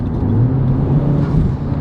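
A Honda Civic Type R fitted with an HKS exhaust and HKS dry carbon intake gives a steady, loud, low engine drone that swells briefly, heard alone without talk.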